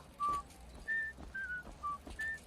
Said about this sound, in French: Je connais l'air que vous sifflez.